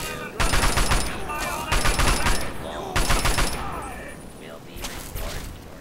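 Gunfire in a Fallout-style wasteland game: several loud bursts of rapid automatic shots in distinct volleys, separated by brief pauses, with someone talking between and over them.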